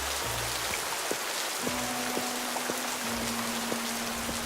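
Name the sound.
rain falling in the video game Creativerse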